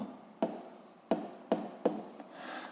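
Handwriting the formula of Hooke's law: a few short, close scratchy pen strokes in separate bursts, quiet and alone with no voice.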